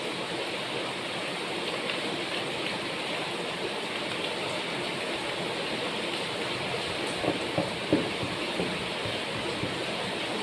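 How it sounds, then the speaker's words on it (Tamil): Rain pours outdoors as a dense, even hiss of broadband noise that stays steady throughout, with a few faint taps and no one speaking. "இப்போ கொஞ்சம் இங்கே மழை பெஞ்சிட்டு இருக்கிறதுனால கொஞ்சம் வீடியோ எடுக்கிறது கொஞ்சம் டிஸ்டர்பன்ஸ் இருக்கலாம்"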